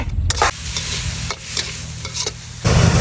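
Pork stir-fried in a pan with coriander hisses and sizzles loudly and steadily, with sharp scraping stirs of the utensil cutting through several times and a louder burst of sizzle near the end.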